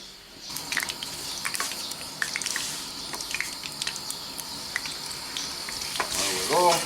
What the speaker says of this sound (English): I'm going to fry mine in the wok.